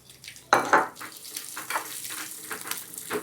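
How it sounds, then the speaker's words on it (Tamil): Chopped almonds fry in a pan, with a sharp burst of sizzle at the start followed by a softer crackle and scraping stirring strokes, close up with no speech. "அடுத்து பாதாம், அது கொஞ்சம் சேர்த்து வறுத்துக்குவோம்"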